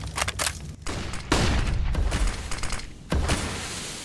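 Loud, dense volleys of gunshots and booming impacts erupt in sharp bursts during a competitive shooter match, with a brief gap before another heavy burst.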